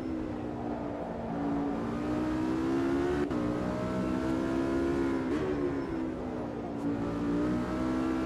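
GT3 race car engine in the sim racing game Automobilista 2 holding a loud, steady high-revving drone that rises and dips in pitch as the car accelerates, with brief gear-change blips.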